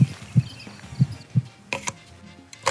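Heartbeat sound effect in a Spanish-language farm radio spot about generational renewal in cattle ranching: four evenly spaced low thumps, then brief brighter noise bursts toward the end, with no voices.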